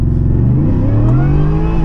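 A supercharged Ford F150 making 600 wheel horsepower revs hard while its tires spin without traction, a loud, steady, close engine roar with rising tones and no pauses.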